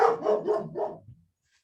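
Several dogs bark in a quick series of four or five loud, close barks, tapering off into a brief trailing yip before silence.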